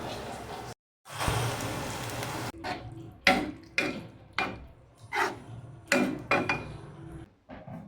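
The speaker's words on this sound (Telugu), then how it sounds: "సో ఫస్ట్ అయితే ఆనియన్ మిర్చి వేస్తున్నాను" Chopped onion and green chili hit hot oil for ridge gourd dal with a burst of sizzling, followed by a run of clattering stirs and taps of a utensil against the pan.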